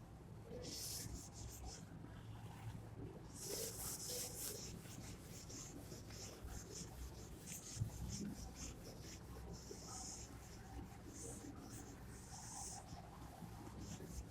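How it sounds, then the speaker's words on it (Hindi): Marker or chalk writing on a board during a class 12 biology lecture, with scratchy strokes in short bursts, quiet and close in a room with faint background noise. "एग्जाम्पल को मैं ऊपर यहां पे लिख देता हूं"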